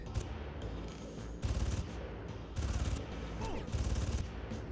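Repeated bursts of automatic gunfire from Far Cry (original 2004 game) fire in three loud volleys over a constant, busy game soundscape.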